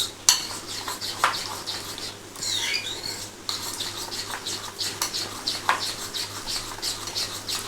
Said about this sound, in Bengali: খুব ভালো করে এটা মিশিয়ে নেবো